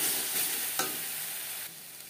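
Steady sizzle of fried spices (coriander, cumin, dried chillies, black pepper, bay leaf) in a hot pan, with a couple of scraping stirs cutting through the continuous frying hiss.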